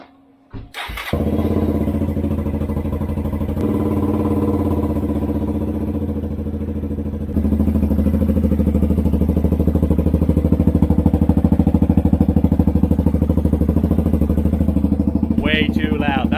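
A Suzuki VanVan 200 motorcycle with a new exhaust and DIY midpipe, baffle removed, cranks and fires up, then idles loudly and steadily, with a jump in level partway through as it revs up, close to the recorder.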